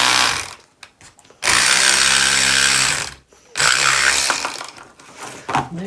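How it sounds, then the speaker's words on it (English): A foot-pedal-operated power saw blade cuts the top off a dried gourd with short revving bursts, then two long, loud, harsh buzzing passes separated by a brief gap, all close up. "It's got a little foot pedal, so I just put the blade down into the gourd, and I just do it a little bit at a time."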